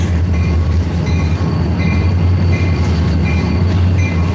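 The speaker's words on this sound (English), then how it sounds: "So next thing I know, loud ass train." A freight train rolls by loudly and close, a heavy continuous low rumble with rhythmic wheel clicks on the rails and occasional faint squeals, no voices over it.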